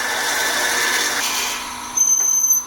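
A close power drill whirs steadily, then its pitch shifts as the bit bites into a wooden pen blank, ending with a short rise in grinding noise.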